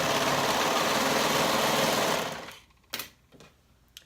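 A sewing machine runs steadily for about two seconds, stitching the short-end seam of a flutter sleeve at a 1/2 inch seam allowance, then stops, leaving a few faint clicks and handling sounds.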